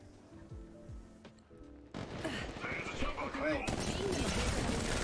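Gunfire in Apex Legends Mobile: after a quieter start, dense rapid bursts of shots and in-game effects kick in and continue loudly, with a voice talking over the action.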